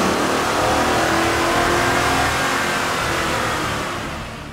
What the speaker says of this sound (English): let's run our GT one more time on the dyno and see how well we did with our custom Bama tune